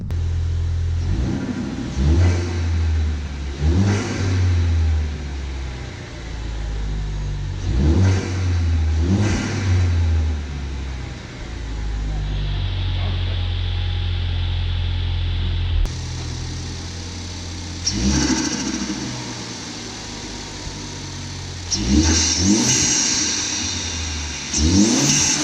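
A Ford Focus ST fitted with a green aftermarket air filter revs repeatedly, several short bursts rising and falling over a steady engine drone, with wind noise throughout.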